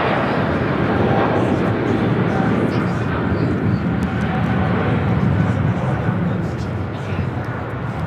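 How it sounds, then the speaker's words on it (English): A Cathay Pacific Boeing 777-300ER takes off from LAX, its jet engines making a loud, steady broadband roar that fills the whole span without letup. "This is Cathay Pacific Flight 881 taking off to Hong Kong on the 777-300ER."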